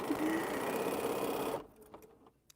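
A sewing machine stitches quilt pieces in a steady, close, fast whir that stops abruptly partway through, leaving quiet handling sounds after it.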